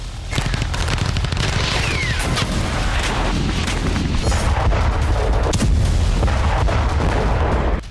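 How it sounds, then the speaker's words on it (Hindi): Artillery shelling in Donetsk by Russian forces: dense, loud rolling booms and rapid crackling bursts overlapping continuously, with a whistling streak cutting through the barrage. "आदेश के मुताबिक रूसी सेना ने डोनेट्स्क में भीषण बारूद बरसाना शुरू कर दिया"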